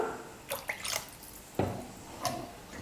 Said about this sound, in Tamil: தண்ணி வந்து தேவையான அளவுக்கு சேர்த்துக்கலாம்